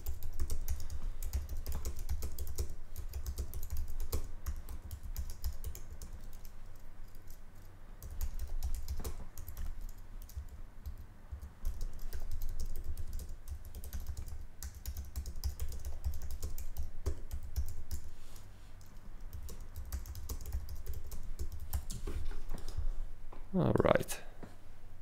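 Soft, continuous clicking of keys on a computer keyboard as text is typed into a web page design, with a quiet voice talking at times and a brief louder rustle near the end.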